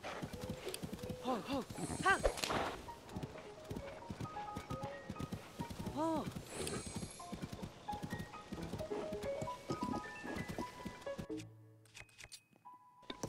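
A horse's hooves clip-clop at a steady trot in the video game Zelda: Tears of the Kingdom, running under a man's chatter and harmonic game tones until the sound thins out near the end.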